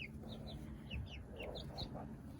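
Backyard chickens in a new garden chicken run cluck and murmur softly to one another in short repeated calls, fairly quiet with faint ambient background.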